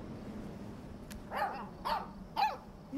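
A dog barks three times in a game scene from Life is Strange 2, sharp separate barks spaced about half a second apart over a quiet low background hum.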